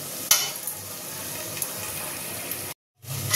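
Masala being stir-fried in a pan while cooking Schezwan fried rice: a steady close sizzle with scraping stirring strokes, broken by a brief silent gap near the end.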